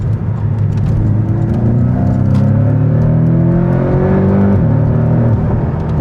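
A 2019 Porsche 718 Cayman with PDK gearbox accelerates hard through a corner, its engine note climbing loud and steady from inside the cabin, then dropping briefly at a shift before pulling on, with no voices.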